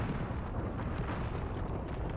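Grenade blast in Apex Legends, a continuous low rumbling roar filling the whole moment, dense and steady rather than a single sharp crack, with no talk over it.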